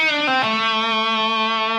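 A single sustained electric guitar note from a song's solo, with a quick pick-up attack and bend at the start, then ringing bright and steady with rich harmonics, played alone.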